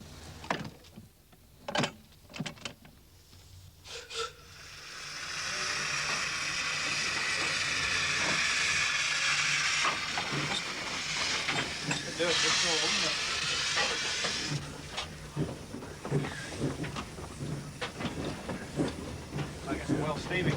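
Steam locomotive on the Peak Rail heritage railway, a loud sustained hiss of escaping steam swelling in for several seconds and then fading, surrounded by clanks and knocks of machinery.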